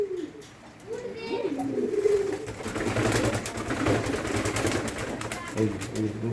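Pet pigeons coo in low, repeated throaty calls at a household loft during rain, with a person talking over them and steady background noise throughout.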